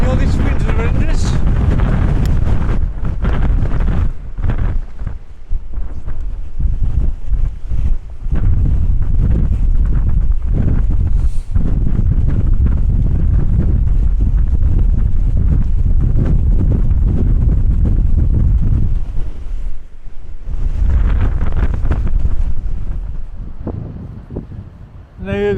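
Strong wind buffeting the microphone outdoors by a castle, a loud continuous roar and rumble that covers most of the clip and eases briefly near the end, with someone talking now and then underneath.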